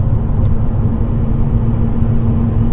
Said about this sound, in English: And that induction sound, oh man.